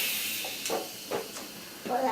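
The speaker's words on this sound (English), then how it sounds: "It hasn't completely naturally vented, so I'm going to release some of the steam" An Instant Pot cooking Japanese-style rice vents steam in a continuous close hiss, with a few brief louder spurts and clicks from the valve as the pressure is released.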